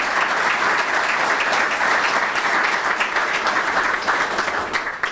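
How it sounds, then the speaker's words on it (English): A dense, loud wash of audience applause at a Becker College event fills the room, steady and continuous for several seconds before tapering slightly at the end. "You can applaud for that."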